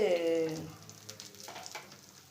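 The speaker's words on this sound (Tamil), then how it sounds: "இப்போ வந்து பனியாரம் வந்து ரெடி ஆகிக்கிட்டு இருக்குங்க" Paniyaram frying in oil in a paniyaram pan over a low flame, a soft steady sizzle with small crackles, following a brief tonal sound at the start.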